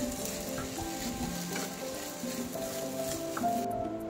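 Sliced cabbage is stirred into fried rice with mixed vegetables in a hot pan. It gives a steady, fairly quiet sizzle with scraping stirs throughout and no talking.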